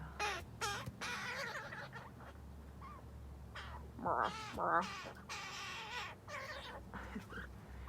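Young crows give harsh, begging caws again and again, some close and loud, others softer, over a steady low background hum.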